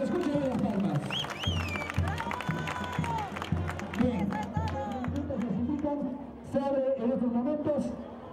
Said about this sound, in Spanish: Que se escuchen las palmas.